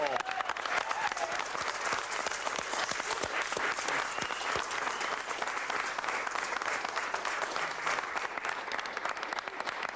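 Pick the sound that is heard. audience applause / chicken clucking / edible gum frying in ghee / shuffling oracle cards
audience applause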